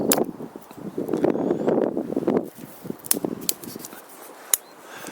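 Dry, dead nettle stalks crackle and rustle as hands handle them outdoors on a windy path, with soft wind noise underneath and a few sharp snaps toward the end.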